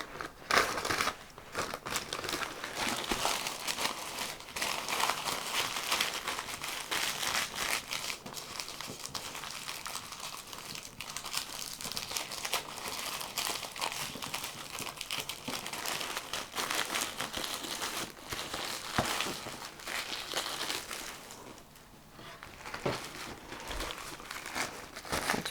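Crinkling cellophane and paper being folded and taped around a baby gift basket, continuous rustling and crunching close up for a long stretch, with occasional tearing.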